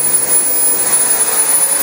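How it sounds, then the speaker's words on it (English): A Dyson DC25 upright vacuum cleaner runs steadily on new carpet, giving a loud, continuous motor whine and airy rush that holds at an even level without breaks. "I hope we're still vacuuming."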